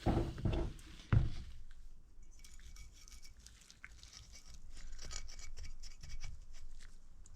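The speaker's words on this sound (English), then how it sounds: "take a clean cloth and wipe in between them" A clean cloth rubs and wipes between the front brake pads of a Honda Odyssey, giving soft rasping friction strokes, louder scrapes at the start, then a quieter continuous rubbing with no talk.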